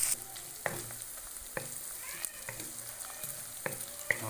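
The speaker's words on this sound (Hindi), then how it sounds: "हल्का हल्का सा इसको भी फ्राई करेंगे ताकि अदरक लहसुन का जो कच्चापन होता है वो निकल जाए।" Ginger garlic paste fries in a pan with onions for tinde gosht, giving a steady, soft sizzle broken by occasional sharp clicks and scrapes of stirring.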